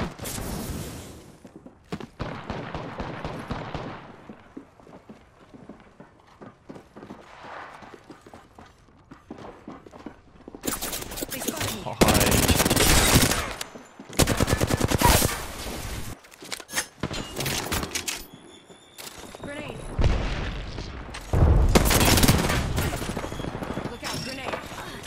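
Bursts of video-game gunfire directed at the player, loud clustered volleys in the second half following quieter rapid rattling and clattering early on, with speech mixed in.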